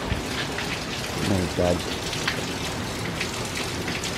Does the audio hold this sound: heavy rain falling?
yes